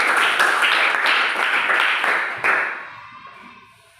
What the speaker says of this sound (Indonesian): Bagus sekali, tepuk tangan.